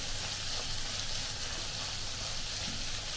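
Chili and curry leaves sizzle in hot oil for a Kerala-style long bean stir-fry, making a steady, even hiss of frying with no voices over it.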